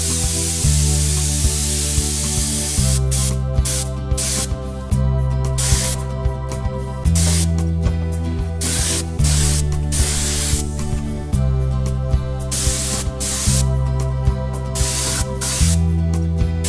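A spray gun lays clear coat over a chrome finish, producing a steady airy hiss with rhythmic pulses, and music plays underneath.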